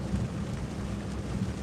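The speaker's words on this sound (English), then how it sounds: "It's really raining." Heavy rain drumming steadily on a car while driving along a parkway in the Smokies, a dense, constant roar with low rumbling road and wind noise throughout, no voices.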